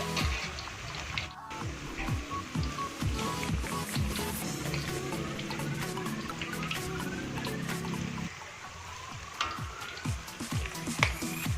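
Banana slices fry in hot oil, flavoured with shallots, and give off a continuous soft sizzle with scattered pops and crackles at a moderate, steady level, with no speech.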